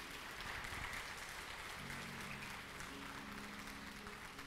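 A church congregation breaks into steady applause, a soft, even clatter of many hands that continues with faint tones underneath.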